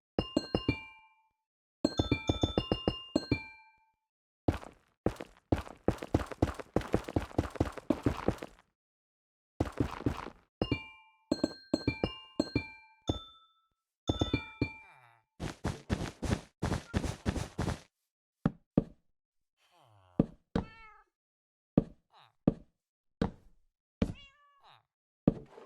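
Amethyst blocks placed in Minecraft, bright chiming crystalline tones in quick bursts and clusters, separated by silences and knocking thunks, close and clean with no voices.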